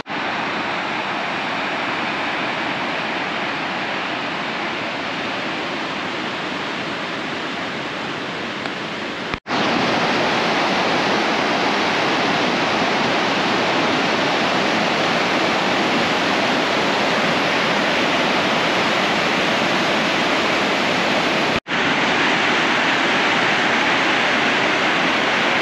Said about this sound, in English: the water down there is like really rapidly flowing